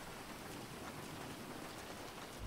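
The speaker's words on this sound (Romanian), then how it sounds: "Plouă cu soare" Steady rain falling in GTA 5, a dense, even hiss of drops that holds at a constant level from start to finish, with no voices.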